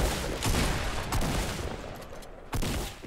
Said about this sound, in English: Oh, I shot you.